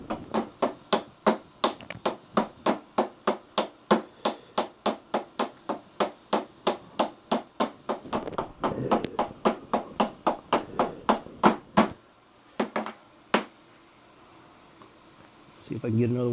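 A hatchet hewing wood to a line makes rapid, rhythmic sharp chopping strikes, roughly three per second, that stay close and loud, then slow to a few scattered blows and a shuffling scrape at the end.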